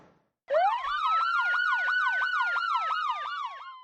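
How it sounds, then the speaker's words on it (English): A police siren wails loud and close after a brief silence, sweeping up then falling into a steady rapid yelp that repeats about a dozen times. "A siren ended Kate's long nightmare."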